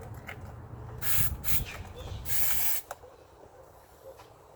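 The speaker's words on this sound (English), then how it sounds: "silicone spray on each one, so they drop in quick" Silicone spray hisses from an aerosol can in short bursts, about three quick sprays, each a sharp airy rush, during work on the fuel rail and injectors of a BMW Z3/E36; quiet handling noises fill the gaps.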